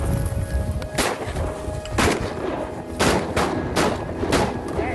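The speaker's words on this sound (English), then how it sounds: "Shoot him, Steve." Gunshots fired during a duck hunt on the Potomac River, several loud sharp cracks spaced about a second apart over steady outdoor background noise.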